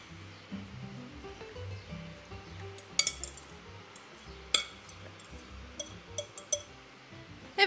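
Two pieces of cutlery toss dressing through a cold rice salad in a bowl, giving quiet scraping and scattered sharp clinks at irregular intervals, with no talking.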